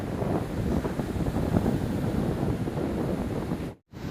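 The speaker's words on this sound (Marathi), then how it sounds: "लाटांचा आवाज 24 तास." Sea waves at Morve beach produce a steady, full rushing wash with some wind buffeting the microphone, which cuts out briefly just before the end.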